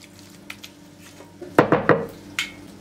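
Cooked spinach is scraped out of a pan into an oven-proof dish: a few soft clinks, then a cluster of louder utensil scrapes and wet thuds, and one last tap.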